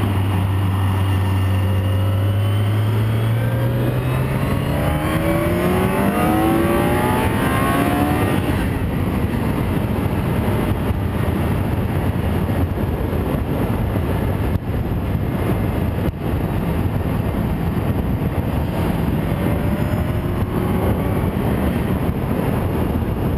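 A car cruises at freeway speed, captured through an external microphone on a first-generation GoPro HD Hero, giving a steady, loud roar of engine and wind noise with a low engine tone sliding upward early on, and no talking.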